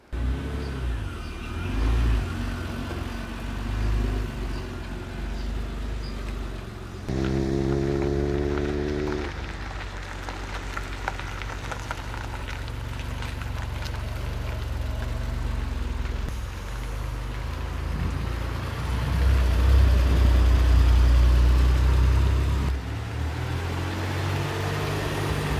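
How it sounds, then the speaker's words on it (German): Air-cooled flat-six of a 1997 Porsche 993 Turbo S runs steadily, with rising revs and a deep, booming surge later on, close and loud. "das hier ist ein Porsche 993 Turbo S"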